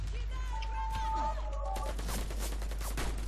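Bursts of gunfire crackle through a Warface video game clan match, rapid repeated shots dense and sharp in the second half, with tonal game sounds and voices beneath.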